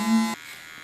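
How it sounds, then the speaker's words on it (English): An electric hair clipper buzzes for about a third of a second, a short steady hum that cuts off abruptly, close and fairly loud. "Het zit gewoon als geluideffect in de tondeuze."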